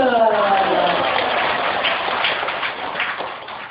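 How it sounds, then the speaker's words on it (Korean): Applause from an elderly audience at a dementia-prevention recreation lecture in a community welfare centre, a steady wash of clapping that fades slightly toward the end. "박수"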